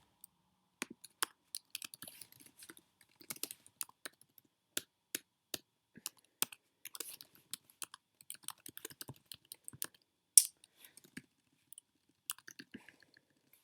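Keys on a computer keyboard clack in irregular bursts of quick, crisp taps with short pauses as account details are entered, close and fairly quiet with no voices.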